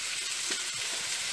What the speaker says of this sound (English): now I'll put a little oil and fry the roughly chopped